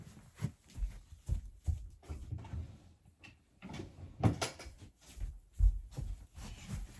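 A sock drawer opened at home to take socks out, heard as a series of close wooden knocks, slides and rustles in irregular rhythm with no talking.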